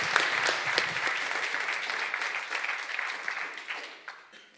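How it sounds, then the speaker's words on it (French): An audience claps for a speaker at the final of an eloquence tournament in Namur, with full, steady applause that gradually thins and fades away toward the end. "Applaudissez Justine Blick."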